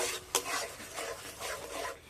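Pumpkin paste mixed with sugar is stirred in a pan for a sweet. A spoon makes repeated soft scraping strokes with a faint sizzle at close range, and one sharper knock comes early on.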